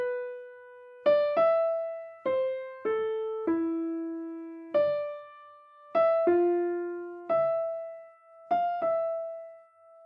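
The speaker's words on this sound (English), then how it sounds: "if I play this in retrograde motion, it'd sound like this." A short melody plays backwards in retrograde, a string of about a dozen single ringing tones with uneven spacing, each fading before the next. It is clear and solo, with no one speaking.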